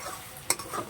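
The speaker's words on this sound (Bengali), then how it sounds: "একটু নাড়তে হবে, না হলে পুড়ে যাবে" Vegetables frying in a pan are stirred, giving a short sharp scrape of the utensil over a soft sizzle, close and brief.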